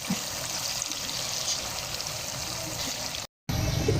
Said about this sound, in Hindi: हमने इसमें थोड़ा सा हाफ ग्लास पानी डाल के और सारा यानी कि अच्छे तरीके से सारा मसाला इसके अंदर डाल दिया